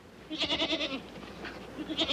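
A goat bleats in a series of quick wavering pulses, fairly faint and a little distant, followed by a short second bleat after a brief pause.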